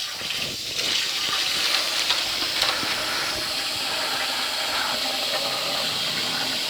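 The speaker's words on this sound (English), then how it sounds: "I'll just go ahead and give that a rinse, and then get most of that off" A marinade bag is rinsed under a running kitchen tap, producing a continuous close rush of water that holds steady throughout.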